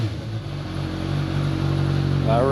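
A Suzuki GSX-S 1000F motorcycle engine runs at a steady, close idle with a deep, even hum that swells slightly toward the end.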